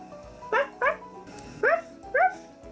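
A toy dog's barking sound effect plays four short, bright electronic woofs in two pairs with a gap between them, close and clear over a faint background hum.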